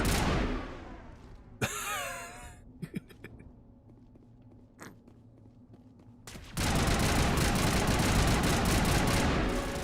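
Gunfire from an imprecise gun in Mass Effect: scattered sharp shots and small bursts sound over a quieter stretch, then a dense, loud, sustained roar of fire takes over the last few seconds.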